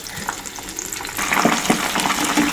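Chili peppers frying in hot oil until browned give a steady sizzle that grows louder and busier partway through, with faint stirring.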